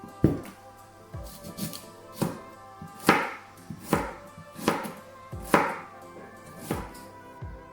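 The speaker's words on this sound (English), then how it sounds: "I'm going to chop this into smaller pieces, almost the same size as my potato" A knife chops a parsnip into small pieces on a board, with about ten distinct sharp, evenly spaced thuds, close and clear with no talk.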